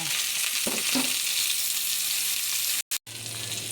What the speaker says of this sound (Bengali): আলুগুলাকে একটু হালকা ভেজে নিব